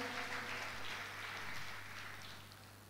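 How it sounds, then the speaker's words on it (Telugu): A congregation at a church service claps to praise God, a dense, continuous wash of applause that fades slightly toward the end, heard from a moderate distance. "చప్పట్లు కొట్టి దేవుణ్ణి స్తుతిద్దామా?"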